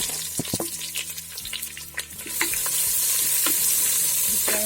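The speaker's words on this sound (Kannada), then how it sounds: "ಕರಿಬೇವಿನ ಎಲೆ ಹಾಕ್ತಿದ್ದೀನಿ, ಈರುಳ್ಳಿ ಹಾಕ್ತಿದ್ದೀನಿ" Curry leaves and onion hit hot oil in a pan, setting off a steady loud sizzle and frying hiss with scraping stirring clatter throughout, and the sizzle swells after a couple of seconds.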